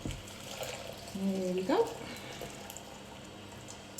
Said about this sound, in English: And then I'll just add some boiling water.